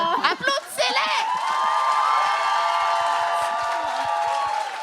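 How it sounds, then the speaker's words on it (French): Live comedy-show audience in Montréal bursts into sustained applause and cheering, a dense, loud wash of clapping with whoops that starts after a brief voice and holds steady to the end. "Applaudissez-les!"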